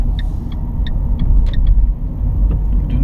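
Car pulling away from a stop in first gear on a French driving-school route, a steady low engine rumble throughout with a few faint high ticks over it, no talk.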